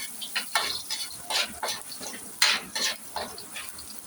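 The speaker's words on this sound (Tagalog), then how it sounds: "Pupulain lang natin ng konti guys yung ating bawang" Garlic browning in hot cooking oil for chicken tinola, a soft close sizzle broken by repeated scraping stirs of a utensil in the pan, with no talking.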